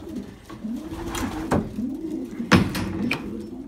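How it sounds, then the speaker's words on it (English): Pigeons coo steadily nearby in a crowded loft, low warbling calls repeating, with a few sharp clacks and wing flutters mixed in. "I'm overloaded with birds everywhere."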